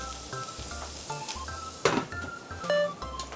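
Bean sprouts fry in a covered pan, giving a faint crackling sizzle under intermittent clatter and a brief scraping knock from the cookware, with no talking.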